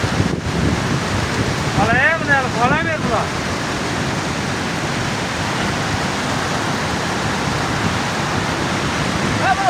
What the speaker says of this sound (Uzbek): Buni yoqda selni qarangizlar.